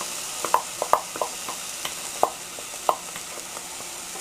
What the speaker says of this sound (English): Stir this around, make sure that you're not burning the garlic or the spices in the bottom of the pan.